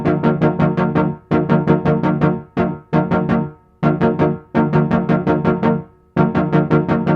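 Rapid repeating synth arpeggiator notes in a steady pulse, set to a 70% note chance, broken by irregular gaps where notes drop out, close and loud, no voices.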